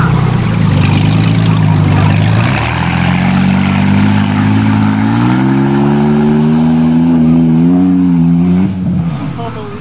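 A beaten-up Mercury Sable car engine revs loud and close at Davidsfarm, pitch climbing steadily in a long rising pull before cutting off near the end.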